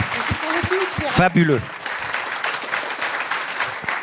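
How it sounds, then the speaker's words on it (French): Audience applause at a French gathering, a broad wash of clapping running the whole time, with a voice speaking briefly over it near the start. "Je voudrais bien qu'on les applaudisse encore une fois."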